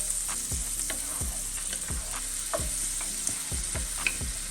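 Minced garlic and onions sizzle steadily in a buttered pan, with a utensil scraping and stirring in regular strokes about twice a second over the continuous frying hiss.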